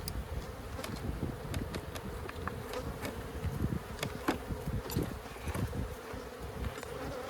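Honeybees in an abandoned hive being inspected, a dense steady buzz and roar of many insects close by, with sharp wing-zips of individual bees darting past throughout.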